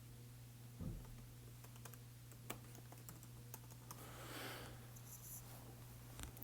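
Faint, close typing on a computer keyboard, scattered soft key clicks at an uneven pace over a steady low electrical hum, no speech.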